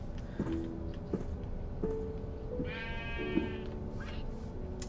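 Blocky Minecraft sheep bleat repeatedly in a modded StoneBlock world, several short nasal calls spaced out over a steady background hum, with a higher rattling game sound in the middle.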